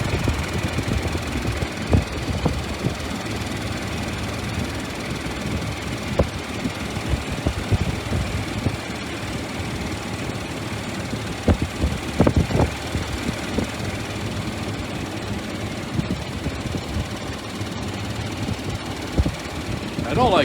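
A golf cart rolls along on a ride through a retirement village, its steady motor hum and road rumble continuous and fairly close throughout, with occasional bumps and rattles.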